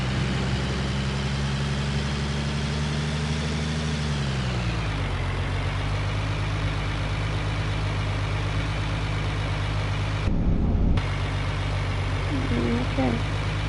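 A vehicle engine idles in Farming Simulator as a steady, loud low drone; its pitch drops slightly partway through, then the hum holds even to the end.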